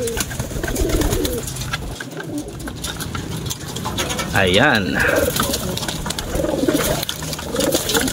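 Quality racing pigeons of Taiwan, Tournier and Belgian lines cooing in a loft, repeated soft throaty coos over a steady background, with a person speaking nearby.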